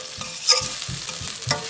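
Onions and garlic sauté in a pan for a chickpea and potato curry, with soft sizzling under a few close stirring scrapes, and no talk.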